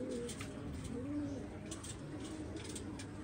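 A pigeon with a breathing problem, sitting hunched, gives low, soft cooing calls at close range over a constant hiss of background noise.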